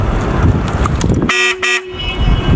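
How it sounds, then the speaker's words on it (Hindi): A modified Hero HF Deluxe motorcycle's aftermarket dual horn sounds two loud, close, bright blasts in quick succession, cutting through background traffic noise. "हॉर्न का साउंड आप चेकआउट कर ले एक बार भाई"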